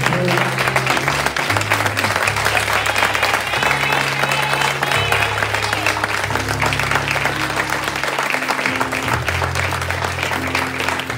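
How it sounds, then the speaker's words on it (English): Sustained applause from a large church congregation at a Christmas worship service, dense clapping throughout with organ or music tones underneath and a few voices mixed in. "Let's give God a hand clap"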